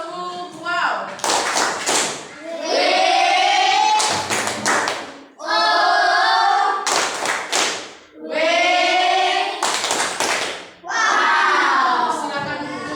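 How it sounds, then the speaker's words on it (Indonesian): A class of children performs a rhythmic clap chant, loud synchronized bursts of clapping alternating with sung, chanted voices in a repeating pattern, close and energetic. "kita tepuk wow untuk kelompok 1"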